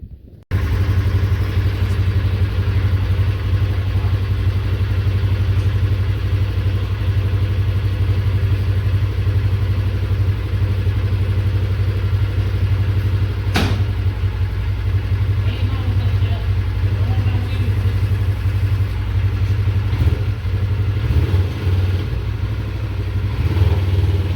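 Polaris RZR 1000 XP4 side-by-side engine idling steadily nearby, a continuous low rumble with a brief clatter partway through, during a yard test ride.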